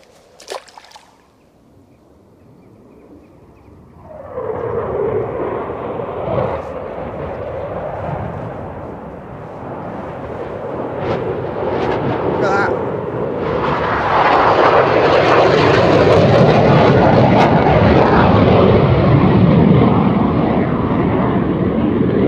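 Military aircraft of a Royal Air Force display pass over a riverside fishing spot. A loud engine roar builds from about four seconds in and swells to a powerful, sustained rush near the end, with no talking.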